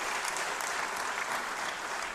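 Deputies in a parliament chamber applaud, a dense, even patter of many hands clapping that continues steadily for a couple of seconds with no voices over it.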